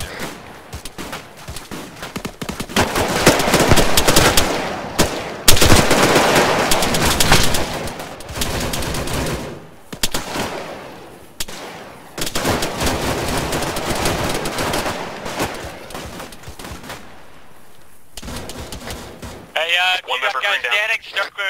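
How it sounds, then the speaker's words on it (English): Video-game gunfire in Arma 3 during a search-and-rescue mission: bursts of automatic fire and sharp shots crackle in clustered volleys with pauses between, mixed with radio chatter and voices talking. "wait for the gunfire and then head towards it"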